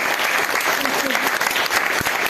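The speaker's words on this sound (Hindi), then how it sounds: "हम अब एक बार सामूहिक रूप से सभी सम्मानित साहित्यकारों के सम्मान में तालियां बजाकर एक बार सभी का सम्मान कर सकते हैं" Audience at a Bharatiya Bhasha Parishad youth literary awards ceremony in Kolkata applauds the honoured writers, a dense, steady wash of many hands clapping close by, with a voice briefly audible amid the clapping.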